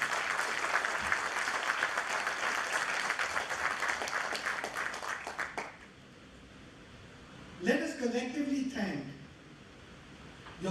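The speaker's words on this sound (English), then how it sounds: "So big round of applause to all of you for taking that." Audience applause at a university convocation for graduates, a steady crackle of many hands for about six seconds that stops abruptly; afterwards someone speaks briefly into a microphone.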